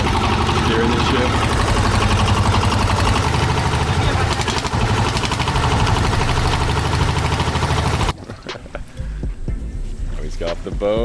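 A boat engine runs loud and steady beneath chatter while someone steers the ship at an ocean facility in Bali, then cuts to a quieter passage partway through.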